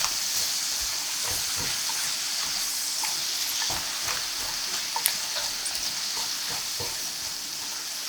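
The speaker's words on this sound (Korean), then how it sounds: "멸치를 더해서 충분히 버무려 푼마늘이 숨이 죽을 때까지 볶아줍니다" Green garlic and anchovies stir-fry in a pan coated with seasoning sauce: a loud, constant hissing sizzle broken by repeated scraping and tossing strokes of the spatula throughout.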